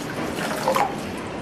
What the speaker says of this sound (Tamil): இது கூட மிக்ஸி ஜாரை கழுவி 1/2 கப் தண்ணி சேர்க்குறேன்.